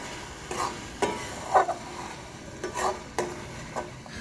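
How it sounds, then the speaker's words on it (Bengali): Spices frying in a pan are stirred with repeated sharp scrapes and clicks of a utensil every half second or so, over a low steady sizzle, close and clear. "এবার নাড়িয়ে দেবো।"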